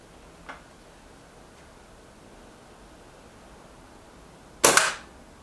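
A single sharp shot from a Reximex Ixia compact pellet air rifle firing JSB pellets, near and loud with a quick burst and brief tail, after a faint click earlier and a steady low hiss in the background.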